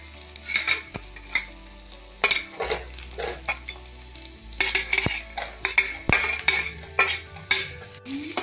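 Capsicum and garlic fry in a pan with onions for chilli paneer, a soft steady sizzle broken by repeated clinks and scrapes of a spoon stirring against the pan.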